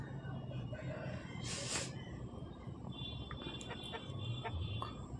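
A rooster crows briefly at a busy rural poultry market in Jhargram, West Bengal, set against constant crowd chatter and background din, with other fowl faintly audible.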